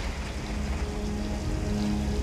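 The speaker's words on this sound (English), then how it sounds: "Boy was waiting for it to rain." Steady rain falls in a movie scene, a dense continuous hiss of drops with a low rumble underneath, sounding close and even throughout with no voices over it.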